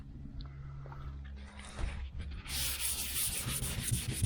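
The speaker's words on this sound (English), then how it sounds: "we're going to sand her down before we buff it" Wet sanding the paint on a 1976 Chevy El Camino quarter panel with 1500 grit sandpaper, a steady close rubbing scrape that turns brighter and more hissy partway through and continues unbroken.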